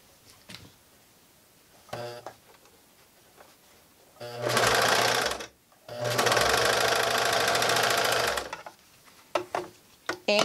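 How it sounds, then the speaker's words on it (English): Sewing machine stitching a seam across the opening of a homemade fabric face mask, two bursts of steady rapid needle whirring, the second longer, with light handling clicks before and after. "You're going to sew it together."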